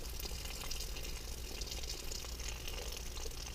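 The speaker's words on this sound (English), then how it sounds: "An awful lot of water" Heavy water gushes steadily from an opened bathroom supply pipe during a remodel, a loud continuous broadband rush with no pauses and no talking.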